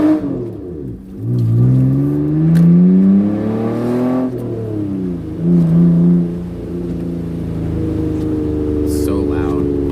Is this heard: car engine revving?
yes